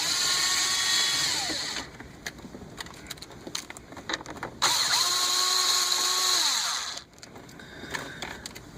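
A power tool buzzing in short whirring bursts as it loosens 7mm bolts at the lower corners of a 2008-2013 Cadillac CTS dash, with clicks and rattles between the runs.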